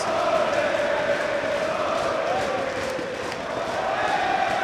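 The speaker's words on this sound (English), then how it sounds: "this crowd chanting Ole, giving El Generico that encouragement" Wrestling crowd at a tag team match between the Young Bucks and Kevin Steen and El Generico, a dense, steady roar of many voices with a sustained chanting tone running continuously throughout.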